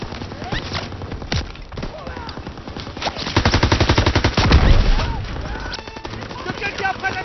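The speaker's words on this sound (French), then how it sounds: "Visez ces mitrailleuses." Machine guns rattle in rapid, sustained bursts during a beach assault in Call of Duty: WW2, loud and close, with scattered explosions and shouting voices mixed through the gunfire.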